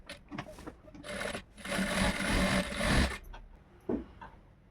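Sewing machine stitching the lining onto an embroidered blouse, with short bursts of needle whirring, a longer run of steady stitching in the middle and small handling noises between, close and without talk.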